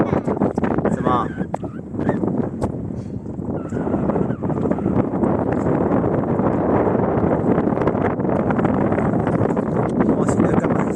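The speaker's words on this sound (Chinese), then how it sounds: "风很大哦，你要小心不要被吹倒了哦" Strong seaside wind buffets the microphone in a constant loud rumbling roar, with a brief voice-like sound early on.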